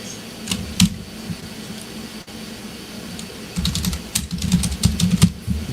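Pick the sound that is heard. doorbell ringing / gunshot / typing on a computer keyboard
typing on a computer keyboard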